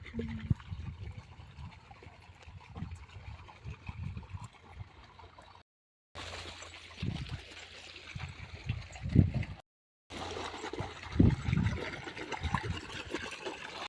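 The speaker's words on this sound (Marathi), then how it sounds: "आणि इथं पाणी चालले." Continuous rushing, gurgling water close by, broken by two brief cuts, with occasional splashes and low knocks.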